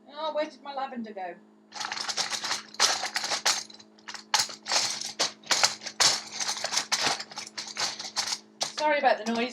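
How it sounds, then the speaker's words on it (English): Wooden colored pencils are rattled and clattered together in a dense, irregular burst of clicks while someone searches for a lavender one, with a voice speaking briefly at the start and end. "Sorry about the noise, I'm trying to find my lavender pencil."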